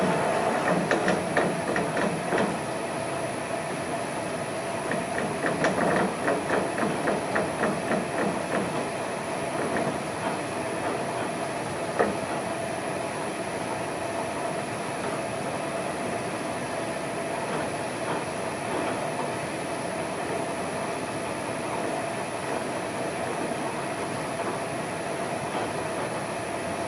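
A CNC mill traverses along its axis with a steady mechanical whine, clicking pulses and faint ticking near the start, the motor hum holding on quietly afterward with no voices.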